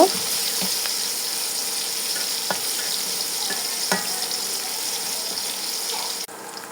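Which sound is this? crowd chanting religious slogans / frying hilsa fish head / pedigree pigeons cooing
frying hilsa fish head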